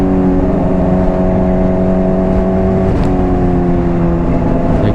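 Honda CBR600RR sport motorcycle cruising in sixth gear, a loud, close, steady engine drone with a constant pitch that dips briefly at about the three-second mark, heard on its own without talk.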